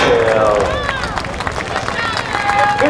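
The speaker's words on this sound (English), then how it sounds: "Round of applause for the pigtail." Crowd at a county fair pig wrestling event claps and cheers, a busy, steady wash of applause and voices with people talking throughout.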